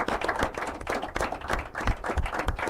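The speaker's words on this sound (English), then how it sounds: "a very warm round of applause to each and every one of them" A crowd claps for the schools at an inter-collegiate quiz and debate competition, a loud, steady wash of many hands applauding without pause.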